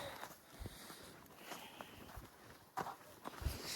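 Footsteps walking outdoors in light rain, faint and fairly close, an uneven series of soft steps with a few sharper scuffs toward the end.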